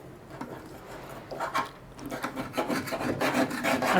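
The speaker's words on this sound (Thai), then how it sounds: "ต้องค่อยๆขูด ค่อยๆล้างไปนะคะ" Grease being scraped off a kitchen range hood, a rough raspy rubbing that comes in short strokes and grows denser and louder toward the end, close by with no talking.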